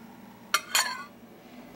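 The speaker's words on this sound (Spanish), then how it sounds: "acá estamos ya picando el kiwi" A knife taps sharply twice against a surface while chopping kiwi fruit for a fruit salad, with a brief metallic ring after the second cut and a faint tap at the end.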